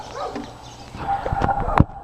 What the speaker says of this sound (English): Kai, what are you barking at?